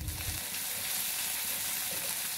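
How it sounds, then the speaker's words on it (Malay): Nasi goreng ingredients with sugar and mushroom seasoning sizzle quietly in a pan during stir-frying, a soft steady crackle with no voices. "Tumis sebentar,"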